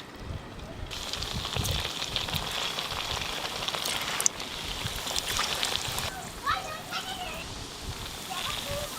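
Potato and semolina snacks deep frying in hot oil give a steady, dense crackling sizzle with scattered sharp pops, continuous and close throughout, while a voice speaks over it at times.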